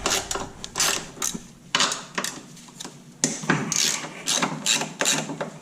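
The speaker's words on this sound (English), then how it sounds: "I'm loosening these bolts up here." Rapid ratchet clicking comes in repeated bursts, close and loud, as bolts are loosened on a coilover being removed from a Nissan R32 Skyline.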